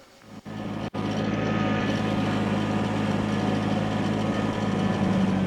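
A Kubota BX compact tractor engine runs steadily while driving on a hill, a loud continuous low drone with a brief dip near the start, no voices present.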